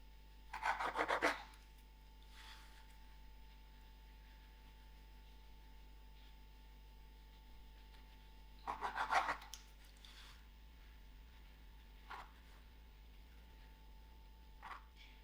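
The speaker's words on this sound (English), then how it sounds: "I'm going to use 4 slices of my bread, and I'm going to cut the crust" A knife saws through the crusts of bread slices in two short rasping bursts of scraping strokes, separated by quiet, with a few faint knocks afterward.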